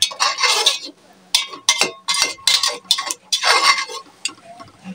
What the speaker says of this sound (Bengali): নেড়ে চেড়ে মশলা কষানো মশলার সাথে মিশিয়ে নিলাম।